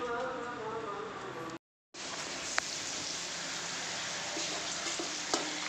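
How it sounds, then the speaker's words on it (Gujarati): Garlic crackles and sizzles in hot oil in a pan while stuffed okra curry is cooked, a dense, steady hiss with small pops, broken by a brief cut of silence before it resumes. "તો તેલ નાખ્યું, પછી લસણને કકડાવ્યું"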